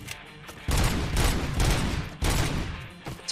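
Gunfire from the video game RoboCop: Rogue City, loud rapid automatic bursts at close range, three sustained volleys split by brief gaps, with nothing spoken over them.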